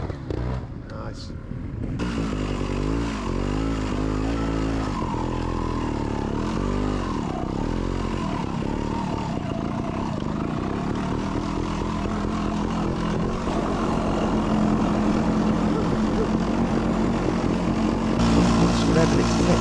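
Trials motorcycle with an air leak revving high and hard, a loud, sustained engine drone with wavering pitch that holds steadily through the whole stretch, close to the microphone.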